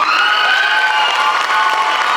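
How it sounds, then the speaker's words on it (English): An audience applauds two eighth-grade graduates receiving an award at a school graduation ceremony, a steady dense wash of clapping with a few cheers and children's shouts mixed in, loud and sustained throughout. "And for these two students, I ask that you join me in applauding them, Charlene Toulouse"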